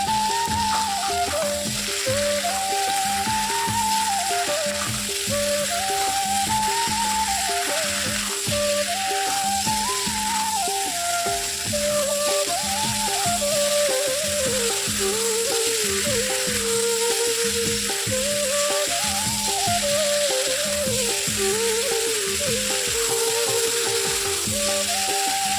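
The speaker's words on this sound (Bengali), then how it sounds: "লবণ আর হলুদ গুঁড়ো দিয়ে ঝিঙাগুলো আর আলুগুলোকে একটু ভেজে নেব" Ridge gourd and potato pieces fry with salt and turmeric in a pan, giving a steady, loud sizzle throughout, with intermittent stirring scrapes and a repeating whirring tone layered over it.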